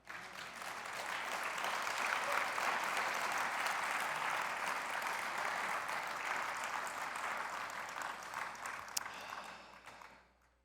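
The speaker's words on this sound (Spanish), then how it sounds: "¿Por qué no le das un aplauso al Señor?" A church congregation claps together in a long, sustained round of applause that rises quickly, holds steady for several seconds and fades out near the end, heard from a distance without voices.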